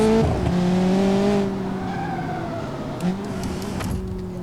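An all-wheel-drive sports car in BeamNG.Drive corners hard, its engine droning in a steady harmonic whine while the tires squeal and skid, loud and close, then the pitch dips and rises again as it exits the turn.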